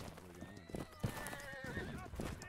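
A horse neighs and gallops with clip-clop hoofbeats in the Napoleonic-era multiplayer battle game Holdfast, heard up close amid overlapping game sounds and players' voices talking.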